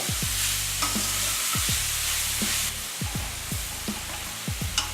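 Tender jackfruit poriyal with salt sizzles steadily in a pan while a spoon scrapes and stirs it in a regular rhythm, close and loud, with no talking.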